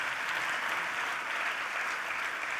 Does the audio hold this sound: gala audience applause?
yes